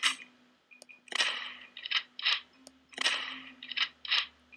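Gunfire and reloading in the Death Defence video game: a repeating pattern of crisp, snappy shot bursts mixed with clicky mechanical reload sounds, fairly quiet and steady in rhythm.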